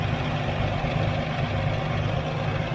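A 1978 V8 Chevrolet Nova hot rod with a carburetor idles close by after starting, a steady low, rumbling engine drone with no talk.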